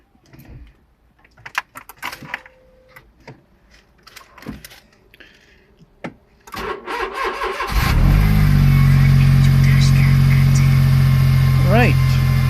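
A Smart ForTwo in freezing winter cold cranks briefly and catches, then settles into a loud, steady idle that fills the last few seconds, with a quick rev near the end; a person talks quietly before the start.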